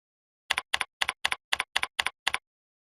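Eight crisp keystrokes on a computer keyboard, evenly spaced and close-up, tapped out in a short burst against a silent background while entering text into a field.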